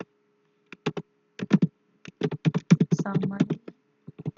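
Someone with long fingernails typing on a computer keyboard, quick irregular clusters of close clicks with brief pauses, a voice speaking briefly in between.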